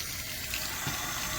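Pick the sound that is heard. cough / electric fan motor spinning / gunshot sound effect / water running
water running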